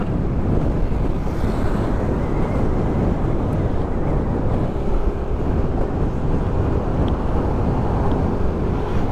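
Strong wind buffets the microphone in a continuous low roar, with a faint wash of water in the background.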